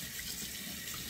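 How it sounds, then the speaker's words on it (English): Cold water running from a sink tap, a steady close hiss and splash lasting through the whole short clip. "So let's get the cold water running."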